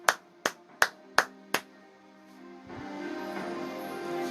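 Five sharp claps from a church congregation ring out in a slow, even rhythm, near and clear, then give way to a steady swell of crowd noise and music.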